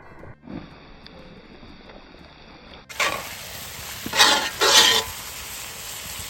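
Chicken cooking in a pan on low heat, a soft steady sizzle that grows louder and brighter partway through, with a couple of stronger hissing bursts near the end.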